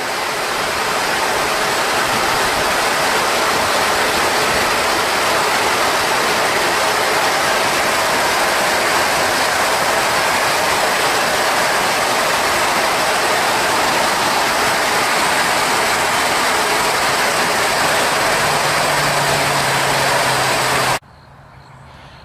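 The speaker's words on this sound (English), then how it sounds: "all that water that's flowing up is flowing through those troughs, being collected and sent to the wash water" Backwash water rushing steadily through the collection troughs of a filter at a water treatment plant, a loud continuous roar that cuts off abruptly near the end.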